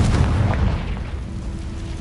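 A Confringo blasting spell explodes in Hogwarts Legacy, a heavy low boom that rumbles loudly at first and then fades into a sustained roar.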